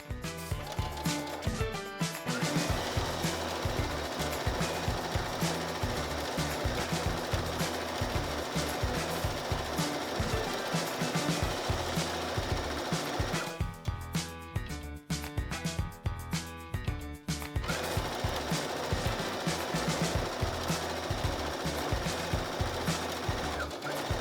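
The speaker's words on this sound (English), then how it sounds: "do you want to see me sew some strips" A sewing machine stitches strips of starched Irish tweed fabric, a steady rapid mechanical whir that runs loud and close almost continuously, with short pauses near the start and around the middle.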